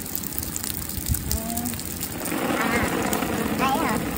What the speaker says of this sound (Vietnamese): Cái chỗ này á, hạt mưa nó to hơn ở ngoài kia.